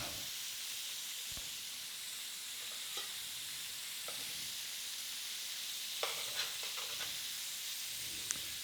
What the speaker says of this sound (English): Doesn't take long to cook shrimp, folks.